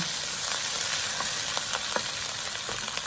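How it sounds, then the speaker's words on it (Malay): Tom yam fried rice (nasi goreng tomyam) crackles in a hot pan as it crisps, giving a dense, steady sizzle dotted with sharp little pops close by. No one speaks. "Nasi dah cukup garing, dah meletup-letup"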